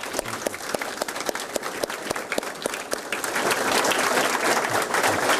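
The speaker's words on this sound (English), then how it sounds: "So I join others in giving you a round of applause for appreciation for a job well done." At a quarterly awards and promotion ceremony, a handful of people clap sparsely and sharply at first, then the whole audience swells into dense, louder applause that carries to the end.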